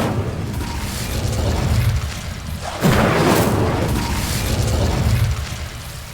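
A fire spell is cast in Hogwarts Legacy, heard as a loud, dense rumbling burst with a sharp whooshing onset partway through, over continuous low game ambience, with no talk.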